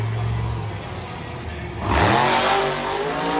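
A monster truck engine at a Monster Jam show in Denver revs hard during a backflip attempt, a loud roaring drone that swells sharply midway and holds at high power, with faint voices in the background.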